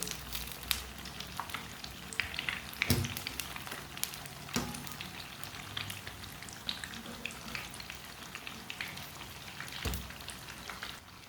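Potato and moong pakoras frying in oil, a continuous soft sizzle with scattered sharp crackles and pops, close and fairly quiet, with no talking.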